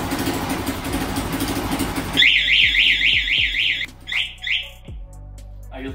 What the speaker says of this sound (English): Then we're gonna test the alarm.